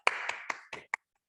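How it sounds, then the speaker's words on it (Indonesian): A small group in a physical education class claps together, five sharp separate claps over about a second, close and fairly loud, with no talking. "kasih tepuk tangan"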